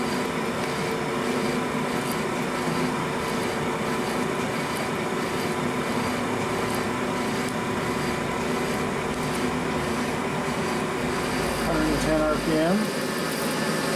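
An ACRA Heavy 14 lathe spins at slow RPM while facing an out-of-round, not-square cylinder, giving a steady, loud mechanical hum and whir throughout, with a brief rattling scrape near the end.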